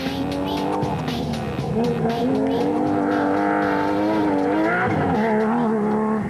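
A Nissan Navara SP off-road race truck with a tweaked 4-litre V6 engine drives hard, its loud continuous engine roar rising and falling with revs and tire noise, close and steady throughout with no talking.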